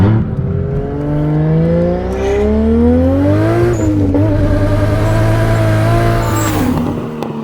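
A turbocharged 1JZ-swapped BMW E30 with a loud exhaust and exhaust flap revs hard, its harmonics sweeping upward through repeated accelerations, a dense, continuous engine roar from nearby with no talk.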